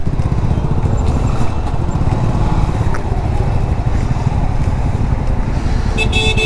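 Riding a Honda CB300F flex-fuel motorcycle through moving traffic in Bangalore, a loud steady engine drone with road rumble and wind, faint surrounding vehicles and a brief higher tone near the end.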